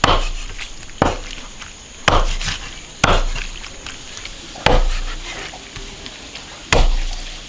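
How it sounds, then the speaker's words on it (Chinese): A cleaver chops duck intestines into small lengths on a wooden board, six sharp, loud knocks spaced about a second apart, each ringing briefly before fading. "切成小节"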